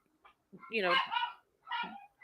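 Several dogs bark in short bursts, loud and close, with two clusters of yaps and a brief yip, heard alone without speech.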